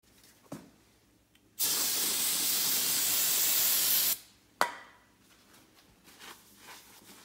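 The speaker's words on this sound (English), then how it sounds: "So I'm gonna use a trusty old starting fluid to absorb any of the oil and evaporate that off and wipe it down really good." A short burst of starting fluid sprays from an aerosol can onto a bare metal winch plate for a Mitsubishi Montero, a loud steady hiss lasting about two and a half seconds, followed by a brief sharp spurt and faint handling noises.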